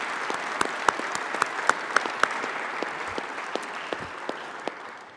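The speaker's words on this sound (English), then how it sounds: "please join me in a round of applause for all of our departments that provide service" Applause at a police department swearing-in ceremony, a room of people clapping steadily with a few sharp, distinct claps standing out, fading toward the end.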